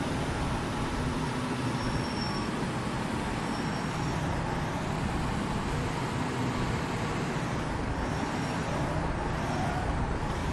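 In a mobile truck simulator game, a truck's engine drones as a continuous, even roar, with steady road rumble and no pauses or voices.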